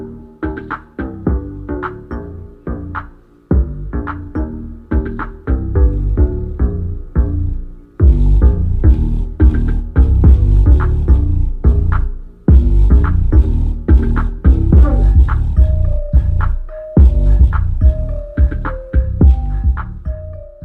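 A high-gain NPN transistor amplifier plays music with heavy, booming bass through speakers on a table, loud and continuous with steady beats and a melody entering midway, no talking.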